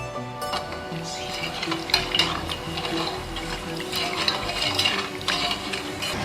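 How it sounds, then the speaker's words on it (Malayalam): Sugar and hibiscus squash are heated and stirred in a pot, with a steady simmering bubble and a run of frequent spoon clinks and scrapes against the metal. "ഇത് ഏകദേശം തിളച്ച് തുടങ്ങിയിട്ടുണ്ട്. പഞ്ചസാര നന്നായിട്ട് അലുത്തിട്ടുമുണ്ട്."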